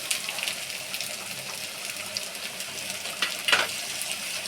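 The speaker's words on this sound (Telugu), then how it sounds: "ఇప్పుడు ఇందులో మనం ముందుగా 2 టమాటా మిక్సీ పట్టుకొని ఉంచుకున్న జ్యూస్ని ఇందులో వేసుకోవాలి." Blended tomato juice hits a hot pan with prawns for a Sunday prawn curry, a steady close sizzle and bubbling with a few sharper splashes near the end.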